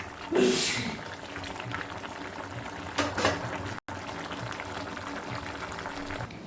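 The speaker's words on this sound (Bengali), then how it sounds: "দেখুন কি সুন্দরভাবে মাশরুম সেদ্ধ হয়ে যাচ্ছে।" Mushrooms simmering in a pot for a mushroom curry give a steady low bubbling throughout, with a brief louder splash near the start and another burst a few seconds in.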